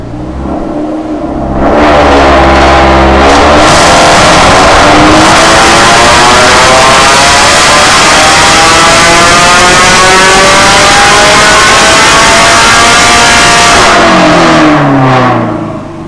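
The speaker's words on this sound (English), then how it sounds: "what a Toyota 86 sounds like with a straight through exhaust system" A Toyota 86 revved with a straight-through exhaust and the rear muffler fully open: a very loud, sustained raspy roar that climbs in pitch, holds at high revs for over ten seconds, then drops back.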